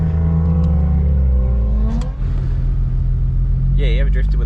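Car engine revving hard during a handbrake drift with an 8HP gearbox, a steady loud drone with pitch swells rising and falling, a sharp surge near the end, and voices talking over it.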